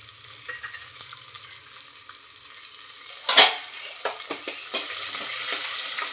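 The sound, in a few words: peanuts and onion frying and stirred for masoor pulao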